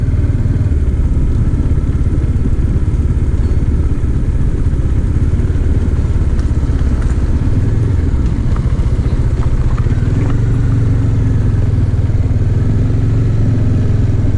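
A Bajaj Dominar 400 motorcycle being ridden at slow speed, its engine a steady loud rumble throughout with a slight shift in pitch partway, heard alone without talk.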